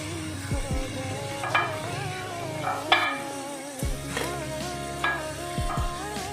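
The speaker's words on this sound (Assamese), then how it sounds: "কাজু আৰু কিচমিচখিনি অলপমান ভাজি ল'ম এতিয়া।" Cashews and raisins frying in a pan with browned onions while making pulao: a steady sizzle with a spoon stirring and scraping through it, close and continuous, with no talking.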